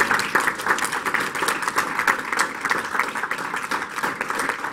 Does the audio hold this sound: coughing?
no